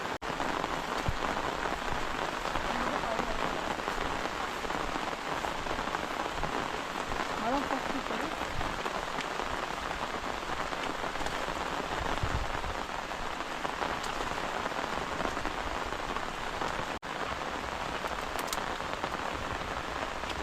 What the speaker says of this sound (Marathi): पाऊस एकदम जोरदार पडतो